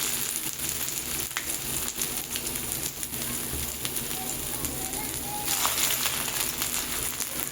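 Dried red chillies, bay leaves and chopped ginger sizzle in hot oil as a tempering: a continuous crackling hiss from the pan with faint scattered pops, at moderate volume throughout.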